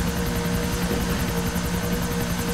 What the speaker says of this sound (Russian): Заходи под вертолет и запрыгивай.